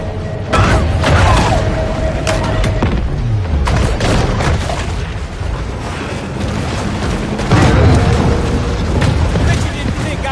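Torpedo explosions in the video game Maneater, repeated heavy booms and blasts in a loud underwater battle, several strong bursts spread across the scene with rumbling in between and voices talking over it.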